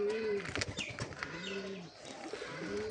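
Several pigeons coo softly in a loft in low, rolling calls that repeat over one another, with light chirps and rustling in the background.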